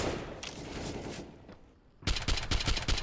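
Rapid gunfire from a Counter-Strike match at a professional esports tournament, with a burst of loud, dense shots cracking in near the end after a quieter stretch of game ambience.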